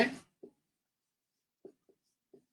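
A pen scratches on paper during a fifth-grade math lesson on averages, a few brief, faint strokes separated by silence in a quiet room.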